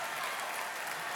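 Audience applause fills a live concert venue right after the band members are introduced, a steady, dense wash of clapping that holds evenly at a moderate level throughout.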